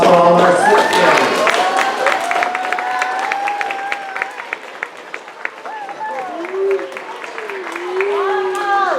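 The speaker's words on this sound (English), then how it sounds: "one more round of applause for all of our sixth graders" Applause for sixth graders at an elementary school graduation ceremony, a broad steady clatter of clapping running throughout with whistles and cheering voices rising over it, loud and close.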